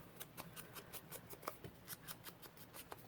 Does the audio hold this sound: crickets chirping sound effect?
no